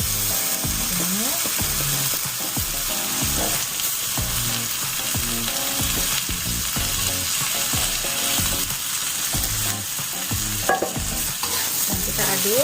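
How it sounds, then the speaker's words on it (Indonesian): Rice with spices being stirred in a frying pan over medium heat for nasi lemak, a steady loud sizzle broken by repeated scraping strokes of the utensil throughout, with no talking. "Dan kita aduk nasinya bersama bumbunya tadi."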